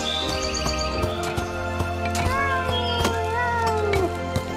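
A cat meows in the video game Sir Whoopass, several short rising and falling meows over a steady game music background, with game sound effects.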